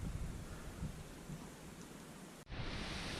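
Rain with big drops starts falling at a lakeside campsite, a dense, steady hiss of drops on surfaces, close and continuous, with a brief dip near the end.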